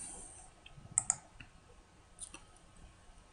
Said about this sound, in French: Je clique sur Run pour convertir la piste audio.